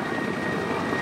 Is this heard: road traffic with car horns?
no